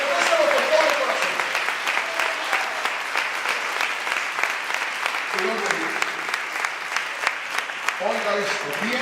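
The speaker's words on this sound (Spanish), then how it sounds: "Dale un aplauso al Señor si lo desea." A congregation claps steadily and loudly for several seconds during a church service, the dense applause running throughout while a voice speaks over it.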